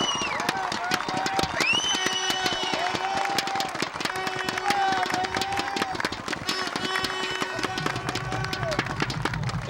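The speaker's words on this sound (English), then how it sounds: "Here come the Indians as this crowd erupts." Crowd at a high school football game roars and cheers as the team runs onto the field, a loud, continuous wash of voices and clapping with an announcer talking over it.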